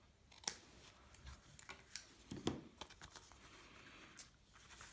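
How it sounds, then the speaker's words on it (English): Scissors trim a section of card in quiet, close snips, several sharp cuts spaced irregularly among soft rustling of paper. "trim off this section here, because you don't need that on there anymore"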